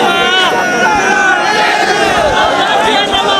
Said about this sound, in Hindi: तालियां बजाए दाऊर खान के लिए।